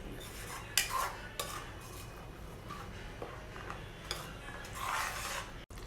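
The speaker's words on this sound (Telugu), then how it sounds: "టమాటా ప్యూరీ అంతా కూడా బాగా కలిసేటట్టు మిక్స్ చేసుకోవాలండి" A spoon works tomato puree into a curry masala for kaju masala, giving quiet scraping and intermittent metallic clinks against the pan at close range, with no voices.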